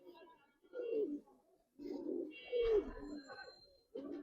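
Giribaz pigeons on a pigeon farm coo in three or four low, throaty bursts separated by short pauses, close by, with a thin steady whine in the background and no talk.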